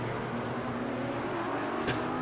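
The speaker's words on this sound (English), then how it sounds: "And cars spread out and racing all over the track at this point." Race cars in the iRacing video game during a three-hour ChampCar endurance event at Sebring, a steady engine drone with a faint tonal whine holding throughout and a brief sharper burst near the end, no talking.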